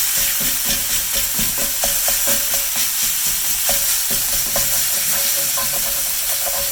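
Chopped sausage frying in olive oil sizzles loudly and continuously up close, with a spatula stirring and clicking against the pan, no voices.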